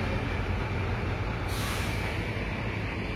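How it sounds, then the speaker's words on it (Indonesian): Damri airport bus at Purabaya bus terminal, its air brakes releasing a loud, steady hiss that swells midway, heard close over a constant low engine rumble with no talk. "Kemudian ini ada bus Damri yang menuju ke Bandara Juanda"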